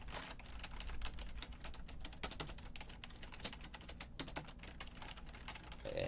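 Keyboard typing while a shop transaction is processed: steady, close, crisp clicking of keys in irregular quick bursts, fairly quiet and alone without talk.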